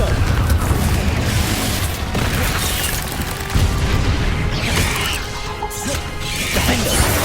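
Confringo fire-blast spells exploding in Hogwarts Legacy combat, a run of loud booming crashes and impacts layered with game noise, with a voice speaking over the blasts.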